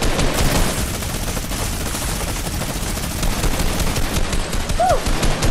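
A burst weapon keeps firing in a zombie survival video game, with dense rapid gunfire running steadily throughout and a brief whistling tone near the end.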